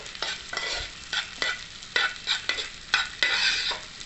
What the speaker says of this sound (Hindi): अब हम इसके अंदर ये जो चारों गोंदे हमने बारीक कोट पीस ली थी इनको हम डालेंगे और फ्राई करेंगे।